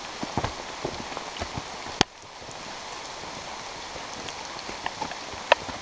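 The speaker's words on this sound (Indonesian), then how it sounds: "Walaupun hujan deras tidak jadi masalah." Heavy rain on a mountain hiking trail, a dense steady hiss of drops falling throughout with scattered sharper patters and one brief loud crack, no voices.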